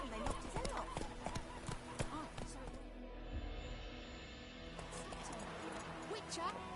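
Geralt's horse Roach gallops in The Witcher video game with rapid rhythmic hoofbeats, heard under ongoing game music and effects with voices talking over the top.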